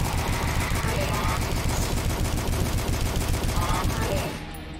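Rapid, dense gunfire in the first-person shooter DUSK, a sustained close fusillade of rhythmic shots that cuts off near the end, with no voices.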